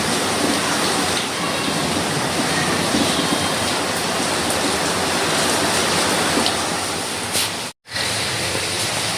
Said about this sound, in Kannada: ಸಖತ್ ಮಳೆ ಬರ್ತೈತೆ ನೋಡಿ.